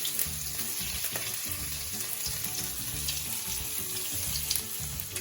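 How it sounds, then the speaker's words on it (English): Garlic and ginger sizzle steadily in hot oil with sesame seeds, a continuous close frying crackle with faint stirring, and no voices. "Now we add garlic and ginger."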